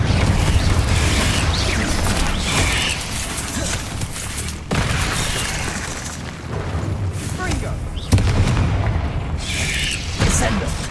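Repeated Confringo spell casts in a video game burst out as loud booming, crackling blasts amid clanking mechanical effects, with a voice speaking over them throughout.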